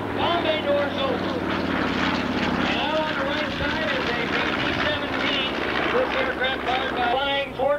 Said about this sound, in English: known as the Texas Raiders. This aircraft was flying in the tour presentation.